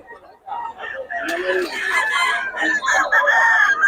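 A rooster crows loudly and close at a Bocaue market, a single drawn-out cock-a-doodle-doo that climbs and holds, with clucking around it and people talking in the background.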